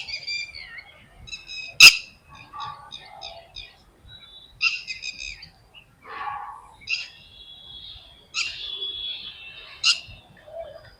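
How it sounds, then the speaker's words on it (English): Birds chirping in open village fields, varied calls of several species in short trills, tweets and coos, with one sharp loud chirp, clear against a quiet background. "there are so many birds chirping here"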